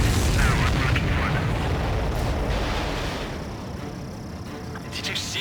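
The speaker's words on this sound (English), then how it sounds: "Did you see that explosion?" A deep rumbling explosion booms through the Ace Combat 7 aerial combat game and fades out slowly. Radio chatter from the game is heard over the blast.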